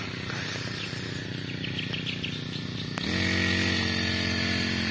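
A grass cutter engine runs steadily at close range with a continuous buzzing drone, rising and growing slightly louder about three seconds in; insects or birds chirp faintly in the background.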